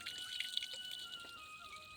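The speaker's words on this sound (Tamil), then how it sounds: "இப்போ நம்ம வந்து ஊற வச்சுருக்க அரிசி வடித்து எடுத்துடலாம்" Water drips steadily as soaked rice is drained for a mutton white pulao biryani, a fine continuous trickle with a few distinct close drops standing out, no voices present.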